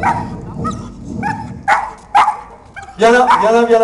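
A fire brigade search dog at a canine training exercise in Aulnay-sous-Bois gives a few short, sharp barks. A handler calls to it repeatedly, and the voice runs over and between the barks.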